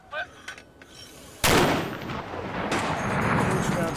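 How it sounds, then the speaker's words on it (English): Mortar fire from a mortar team at a base at Kajaki, Afghanistan: after a few soft clicks, one sudden loud boom bursts out and rolls into a long rumbling echo. "the mortar team are tasked to engage the enemy"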